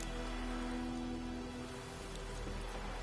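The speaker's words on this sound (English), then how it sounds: "Let it rain." Steady rain falling in The Witcher 3 video game, a soft continuous hiss of drops with a low rumble beneath, even and unbroken throughout with no talk.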